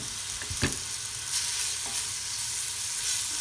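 Pieces of meat and onions fry in a pot for a harira soup, a steady close sizzle broken by a couple of sharp stirring knocks, with no voices.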